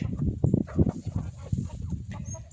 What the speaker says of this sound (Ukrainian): Ось такі в мене молоденькі курочки, бачите, півник.